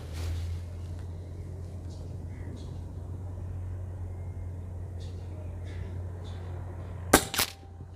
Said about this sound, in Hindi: ऊपर एक और शॉट लगा लेते हैं।